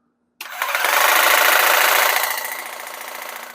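A WORKPROX 20V cordless hedge trimmer starts abruptly and runs with a loud, steady buzzing whir. It settles slightly quieter toward the end, with no talking.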